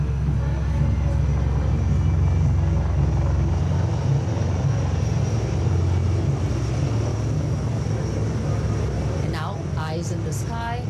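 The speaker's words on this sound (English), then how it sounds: "In the sky, we have the advanced light helicopters. The formation consists of 2 Dhruv helicopters and 2 Rudra helicopters, integrated with weapon systems." A formation of two Dhruv advanced light helicopters and two weapon-armed Rudra helicopters flies over the Republic Day parade in Delhi, giving a steady, loud rotor and engine roar through the whole stretch.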